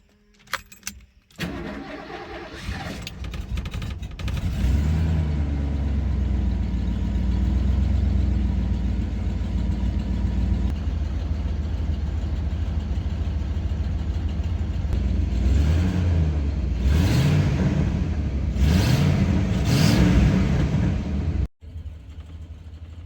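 A 1987 Ford F150 engine with freshly replaced spark plugs cranks and catches, then settles into a steady, rumbling idle before rising in a couple of revs near the end, with a sharp cutoff just after.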